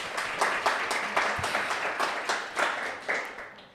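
A small group claps during a casual French interview show, the claps sparse and uneven with distinct individual hand strikes rather than a dense roar, fairly close and lasting a few seconds without talk.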